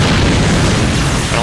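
A missile blast in the video game Cyberstorm 2: Corporate Wars, a loud, dense booming rumble that fills the short moment without a break.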